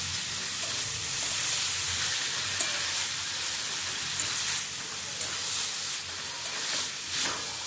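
Bamboo shoots sizzling with green chillies in a pan, a loud continuous hiss and crackle with occasional stirring, close and steady, no voices.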